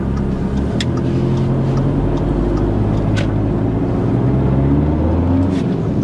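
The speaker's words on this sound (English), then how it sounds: "This time he does apply enough gas and doesn't release the clutch too quickly, so he gets going." A learner driver's car pulls away uphill, its engine droning loudly and rising steadily as it accelerates, with a low rumble and a few faint clicks inside the cabin.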